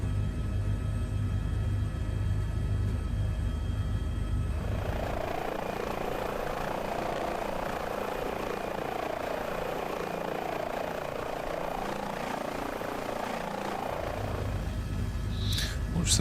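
An H145 helicopter flying in Microsoft Flight Simulator, a steady rotor and turbine drone that thickens into a louder rumbling whir in the middle stretch, then settles back, continuous with no talk.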